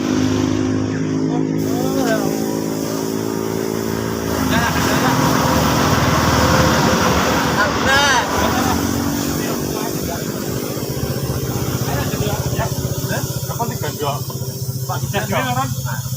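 A motorcycle engine revs up and down nearby with a steady hiss in the background, while people talk over it almost the whole time.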